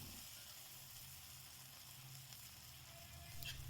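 Ground chickpea masala with cumin and asafoetida frying in mustard oil in a kadhai, a soft continuous sizzle at low level with no talking.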